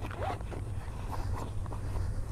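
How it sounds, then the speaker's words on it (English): A motorcycle saddle bag zipper rasps open in short, steady pulls over a low background hum, close by and fairly quiet. "Zipper is super nice, it doesn't get caught on anything"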